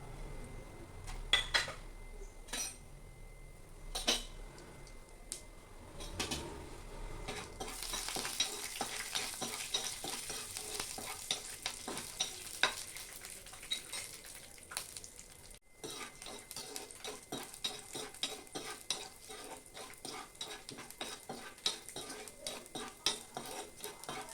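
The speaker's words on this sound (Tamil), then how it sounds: "கொஞ்சம் முந்திரி பருப்பு, வறுத்த நிலக்கடலை ஒரு கைப்பிடி அளவு சேர்த்து ஒரு 2 நிமிஷத்துக்கு எல்லாத்தையும் வறுத்துக்கலாம்" Cashews and roasted peanuts stir-frying in a pan while making coriander rice, with a steady sizzle and frequent scraping and clinking of a spoon against the pan.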